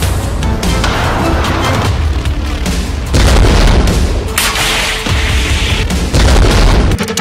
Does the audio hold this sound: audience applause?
no